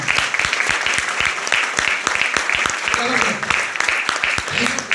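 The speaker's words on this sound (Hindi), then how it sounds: "रामबाबू सर के लिए, जोरदार ताली।" An indoor audience at a business-plan meeting gives a loud, continuous round of clapping for a speaker, with dense overlapping claps and some voices mixed in throughout.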